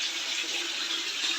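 Water runs steadily into a washing machine, a continuous hissing rush of filling water that stays close and even throughout, with no voices.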